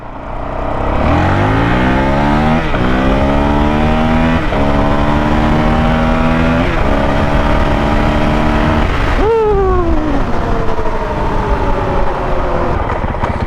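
A 2023 Honda CRF450X dirt bike fitted with a Vortex ECU accelerates hard from a 30 roll, its engine revving up loud and close through several rising gear pulls, each shift dropping the pitch before it climbs again.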